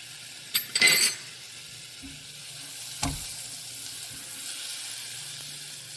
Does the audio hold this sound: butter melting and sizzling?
yes